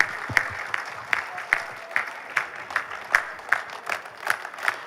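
A business conclave audience claps for Najeeb in slow unison, sharp single beats falling at a steady, even pace in a large hall, with no cheering.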